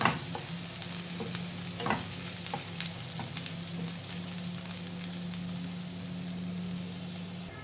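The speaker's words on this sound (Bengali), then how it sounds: "একটা এলাচ পেঁয়াজটা লাল লাল করে ভেজে নেবো" Onion with a cardamom pod frying in a pan until browned, a soft constant sizzle with occasional stirring scrapes early on, fairly quiet and close.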